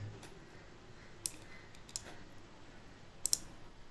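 Computer mouse clicking while working with a Microsoft Word document converted to PDF: a few sharp, quiet clicks, one single and a quick double pair near the end, over faint room hum.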